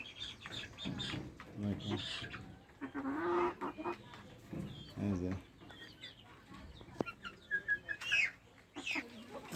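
Desi chickens on a new farm cluck faintly and intermittently as they eat and drink, with scattered short calls and chirps at a low level.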